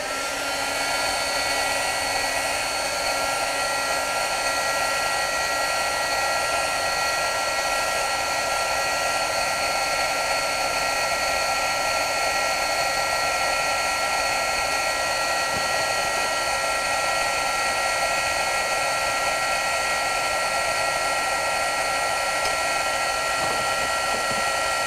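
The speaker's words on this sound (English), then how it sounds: "this heat gun is very, very hot" A heat gun blows hot air in a steady, unbroken whooshing roar with a high motor whine, close and loud from start to finish, with no talking.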